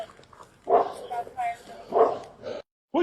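A dog barks and yelps at a police arrest scene, several sharp, close barks in short bursts mixed with people talking.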